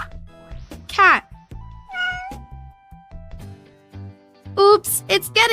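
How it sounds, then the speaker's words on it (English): A cat meows several times, with sharp rising cries, one in the middle and a louder cluster near the end, over a soft background of other tones and no talking. "Cat."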